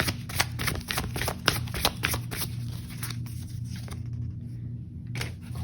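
Tarot cards shuffled by hand in a quick run of crisp riffling flicks over a low steady hum, the shuffling thinning out and pausing toward the end.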